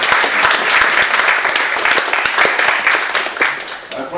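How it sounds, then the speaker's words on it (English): A crowd claps in a sustained round of applause at a community gathering about water, power and respect at Jenpeg, the sound dense and steady and slightly tapering toward the end. "Can we give you a round of applause?"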